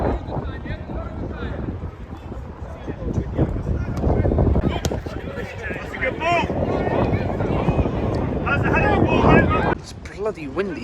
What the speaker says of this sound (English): It's bloody windy here at the Morris Reebok